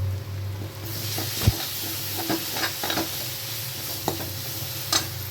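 Paneer fried rice sizzles and fries steadily in a pan just after tomato sauce goes in, with a spoon stirring through it and scraping the pan in occasional sharp knocks, close and continuous.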